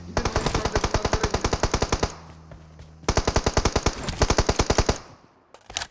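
Automatic gunfire in the video game PUBG Mobile: two long, rapid bursts of loud, close shots separated by a short pause, then a few quick shots at the end.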